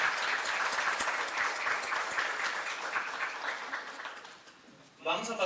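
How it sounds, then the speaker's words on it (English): Conference audience at a tsunami-readiness session gives steady applause that fades over several seconds, and a speaker's voice follows at the close. "We'd like to close this block of specific questions with an applause for all they deserve it"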